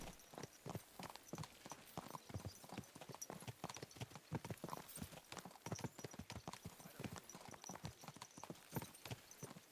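Horse hooves clip-clop steadily and briskly in Kingdom Come Deliverance 2, a dense, even rhythm of close, loud hoof strikes that runs the whole time with no talking.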